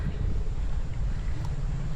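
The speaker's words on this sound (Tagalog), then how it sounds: "medyo lumalakas yung hangin" Strong wind buffets the microphone in a continuous low rumbling roar, steady and loud throughout with no clear voices.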